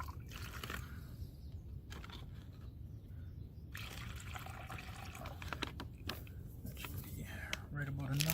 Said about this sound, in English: Let's get some water in there.